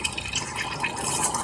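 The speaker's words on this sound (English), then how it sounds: "I can turn up the volume of steam a little bit now." A steam wand on an Ambiano espresso maker froths milk in a mug, giving a steady, loud, rushing hiss with bubbling gurgles throughout.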